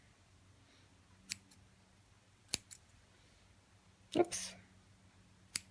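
Scissors snip off extra yarn from a knitted scarf, a few soft, separate clicks and cuts. The sounds are quiet and close, with a brief voice and a rustle between them.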